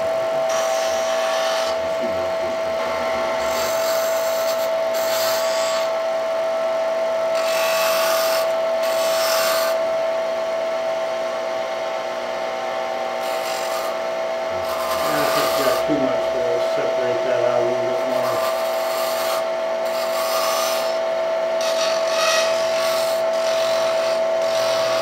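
A wood lathe spins steadily with a constant motor hum while a tool scrapes and rasps against the turning wood in several bursts, and a voice speaks intermittently over it.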